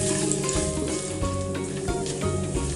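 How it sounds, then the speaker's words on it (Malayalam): Almonds and raisins fry in ghee for aval payasam, giving a continuous close sizzle with crackling pops and stirring scrapes throughout, no voices. "നമുക്കിതിലേക്ക് നമ്മളെടുത്ത് വെച്ച ബദാമും കിസ്മിസും ഇട്ട് കൊടുക്കാം. ഇതൊന്ന് ഫ്രൈ ചെയ്തെടുക്കാം നമുക്ക്."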